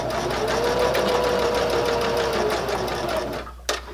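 A sewing machine stitches a fabric bag handle cover, running in a steady, fast, loud whir of needle strokes for several seconds before stopping with a small click.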